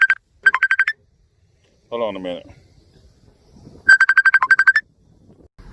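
Phone ringtone sounding in bursts of rapid electronic beeps at the start and again near the end, loud and close, with someone speaking briefly between the rings.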